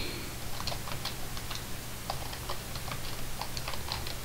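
Typing on a computer keyboard while entering a book title in Minecraft, a steady run of light, quick keystroke clicks over a low constant hum, with no talking.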